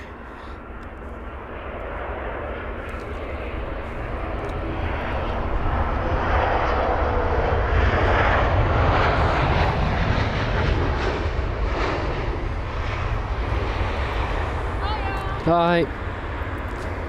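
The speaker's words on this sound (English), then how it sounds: "flight number SQ308 for the Singapore Airlines A380-800 with the reg 9 Victor Sierra Kilo Papa heading to Singapore" Singapore Airlines A380-800 at London Heathrow, a broad jet roar building and holding loud throughout, with a brief voice speaking partway through.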